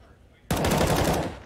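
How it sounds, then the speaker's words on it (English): Gunfire in a competitive tactical shooter game: a sudden loud automatic burst fires blindly into smoke, rapid and continuous for about a second before tapering slightly. "blind fire into the smoke"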